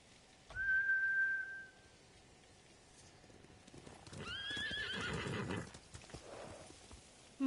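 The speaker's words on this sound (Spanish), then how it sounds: "Han espantado a los caballos. Son monturas samuráis, entrenadas para volver con sus amos." Samurai horses in the video game Ghost of Tsushima give a loud whinny with a whistling tone, followed by a longer stretch of galloping hooves and another neigh, with no talking.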